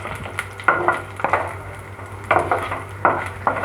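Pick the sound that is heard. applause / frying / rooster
frying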